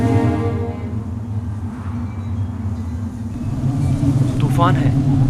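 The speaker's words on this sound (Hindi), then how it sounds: "तूफान है, हमें कहीं पनाह लेनी चाहिए।" An approaching storm, used as a sound effect in a dubbed drama, makes a low, continuous rumble that swells slightly toward the end, with a faint tonal hum at the start and no clear speech.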